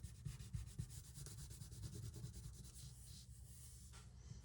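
A yellow crayon rubs back and forth across paper in quick, scratchy strokes, a soft, close coloring sound repeating steadily throughout with no talking.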